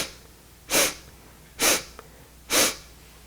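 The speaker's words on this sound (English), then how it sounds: "inhale in 4 sniffs" Sharp nasal inhalations during Kundalini yoga breath work. Three distinct, close sniffs come at an even pace of roughly one per second against a quiet room.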